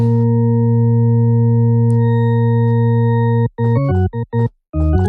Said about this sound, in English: now that we did that, we have our sine wave